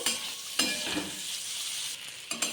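Flattened rice (poha) being stirred and tossed in a hot frying pan, a steady sizzle with scraping spatula strokes and a few sharper clinks against the pan.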